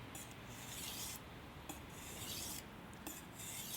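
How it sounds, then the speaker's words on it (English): A chef's knife is drawn across a flat whetstone, giving quiet, close, repeated gritty rasping strokes with brief pauses between passes, and no talk. "I'm sharpening the knife, but I'm keeping the stone flat"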